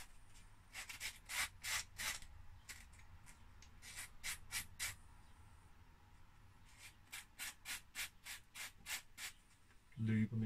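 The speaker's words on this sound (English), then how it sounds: "Bit of a sand down." Connector pins on an Acorn BBC Master Compact are sanded by hand in short rhythmic bursts of rasping strokes, close and fairly quiet, with a pause midway and a louder knock at the end.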